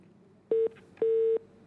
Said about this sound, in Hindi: कॉल ड्रॉप हो गई